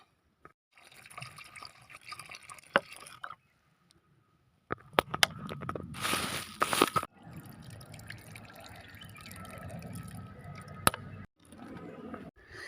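Water pours and splashes in bursts, loudest midway, with quieter trickling and dripping around it and brief pauses between pours.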